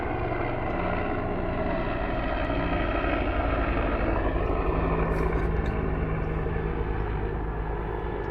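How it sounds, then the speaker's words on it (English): A helicopter passes overhead, its broad, steady engine and rotor roar loud and constant throughout, with no voices over it. "Let the helicopter go by."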